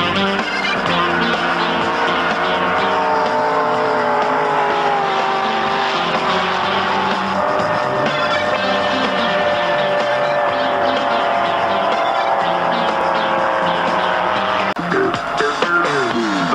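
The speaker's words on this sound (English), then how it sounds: "the first boat to start and still running at the head of the field is Missile, a stern drive inboard" Stern drive inboard racing powerboats roar past at the 1980 Sydney Bridge race, a loud, sustained engine drone with shifting pitch that fills the whole stretch, as if several boats pass close in turn.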